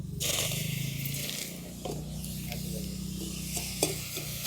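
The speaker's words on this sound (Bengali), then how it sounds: "জলটাকে চিনির সঙ্গে একটু মিশিয়ে নিচ্ছি" Sugar and a little water are mixed in a bowl for a Dol Yatra special phut kalai, a soft close stirring and scraping with a faint gritty rasp, a few light clicks, no talk.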